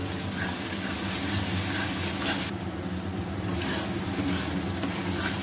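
Spice paste with salt and sugar frying in oil in a pan, stirred: a dense, steady sizzling hiss close by with a low background hum and faint scraping, with no talking.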